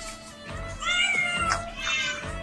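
A newborn kitten being hand-reared gives several thin, high meows in quick succession, close and fairly loud, with no talking.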